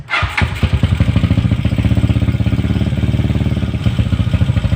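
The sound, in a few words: motorcycle engine starting after carburetor cleaning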